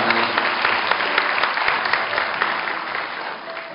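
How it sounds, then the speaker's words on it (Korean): An audience at a 2011 Seoul Digital University entrance ceremony applauds a scholarship award, with steady, even clapping filling the room for a few seconds before it begins to taper off. "큰 박수를 부탁해 주시기 바랍니다"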